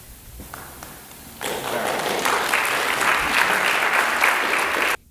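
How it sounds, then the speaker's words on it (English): Audience applause at a live comedy-style show: a dense burst of clapping from a crowd starts after a quiet moment, rises loud and sustained, then cuts off abruptly. "Roaring applause there."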